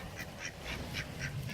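Black ducks quack at an Australian creek, a run of about six evenly spaced, moderately loud quacks over a soft outdoor background.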